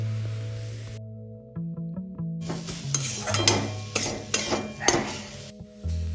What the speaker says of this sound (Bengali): এবার সব ভালো করে মা মিক্স করে নিচ্ছে